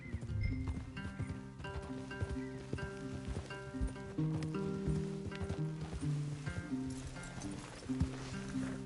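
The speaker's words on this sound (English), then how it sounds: "Leave the horses in the trees there." Horses in Red Dead Redemption 2 clopping and shifting near a tree line, hooves thudding under a dense bed of music, with an occasional snort and brief low voices.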